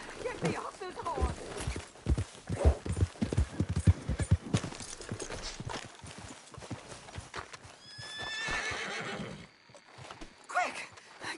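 Horse hooves clip-clopping in Red Dead Redemption 2, with a loud neigh and whinny partway through, while a voice talks over the hoofbeats.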